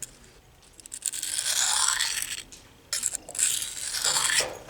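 A knife blade drawn over a new Husky 600 grit diamond sharpening stone in two long rasping strokes, a bright, gritty scrape heard close and alone.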